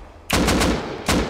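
Automatic gunfire in the survival game Rust, during a fight near a helicopter tower: a sustained, loud burst of rapid shots, a brief pause, then a second burst, with no voices.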